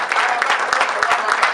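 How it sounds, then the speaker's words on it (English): Dense audience applause fills a hall at a live event day, a steady wash of many hands clapping close and loud throughout, with no pauses. "Give her a round of applause"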